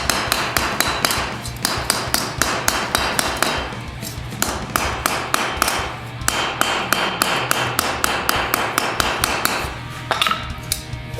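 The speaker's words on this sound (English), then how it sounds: "with a wooden mallet, just taking out some of the bumps, even out the surface a little bit" A wooden mallet strikes an armor pauldron to knock out bumps and even the surface, giving loud, close, rapid repeated blows in bursts with brief pauses.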